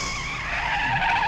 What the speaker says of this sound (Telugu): టైరు పంచర్ అయినట్టుంది, దిగి చూడరా.